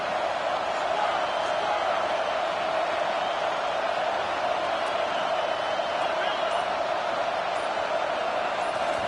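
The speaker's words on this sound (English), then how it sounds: "This crowd bringing the energy and noise early." A loud, steady stadium crowd roar in an American football video game holds at the same level throughout, with no breaks or swells.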